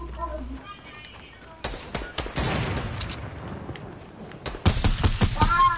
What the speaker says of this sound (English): I see he's shooting at you.